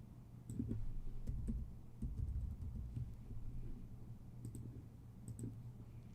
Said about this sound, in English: Click I am not a robot and then submit.